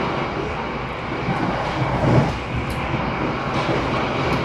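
Loud, steady cabin roar of a Sembrani express train running at high speed between Jakarta and Surabaya, a dense continuous rumble with a brief swell in the middle and no talking.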